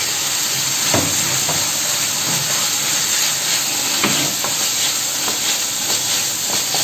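Diced cabbage with a pinch of salt sizzles steadily in a hot pan, a loud, constant frying hiss with a few faint clinks and stirring knocks scattered through it.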